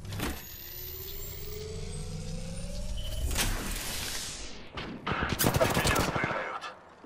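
Gunfire in the Apex Legends video game, with sustained loud shooting bursts, mechanical weapon noise and sharp impacts layered over a steady in-game hum.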